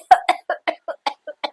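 A man's repeated dry coughing, eight short bursts in a steady rhythm, close and fairly loud with brief silences between.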